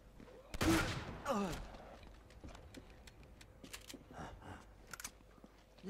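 Gunfire in the action video game Uncharted 2, a couple of sharp, loud shots near the start followed by quieter scattered pops and clicks of in-game action, with no speech.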